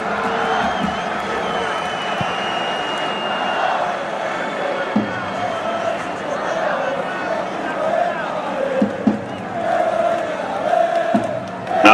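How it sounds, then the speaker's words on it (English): A home stadium crowd at a Barcelona women's Champions League match swells with cheering and whoops, a broad continuous roar that rises in volume toward the end, with commentary talk running over it. "the volume goes up because the home crowd very happy to see Aitada Bonmati warming up"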